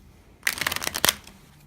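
A quick riffle of playing cards being shuffled, a short burst of rapid flicking that ends in a snap, close and clear in a quiet room.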